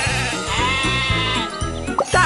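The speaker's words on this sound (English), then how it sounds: "Some sheep have wandered off from the farm." Sheep bleating in the Thomas and Friends Magical Tracks video game: several short, wavering bleats in a row, loud and close over light game music, with no speech.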